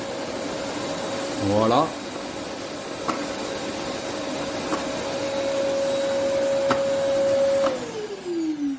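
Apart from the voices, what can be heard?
Rowenta Compact Power XXL vacuum cleaner switched on and running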